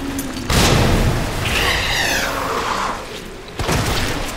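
Gunfire in Resident Evil 2 Remake: two loud booming shots about three seconds apart, each a sharp blast with a rumbling tail, between them game sounds and faint music, no talking.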